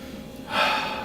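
A single short, sharp nasal sniff at a Hugo for Men fragrance by Hugo Boss, close and fairly quiet, following a brief pause.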